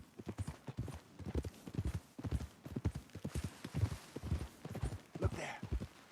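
Horse hooves clip-clop in Red Dead Redemption II, a steady rhythmic trot of clear hoofbeats that carries on without a break, close and distinct, with a faint whinny near the end.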